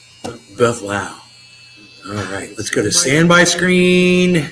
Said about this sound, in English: Gotta love them nose hair trimmers.